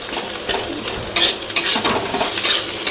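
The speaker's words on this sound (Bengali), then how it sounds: "এই যে এখান থেকে পেঁয়াজ আর মাছের ডিমটা ভেজে নিচ্ছি" Onion and boiled fish roe frying in a pan, a steady close sizzle with scraping stirring bursts throughout, no voices.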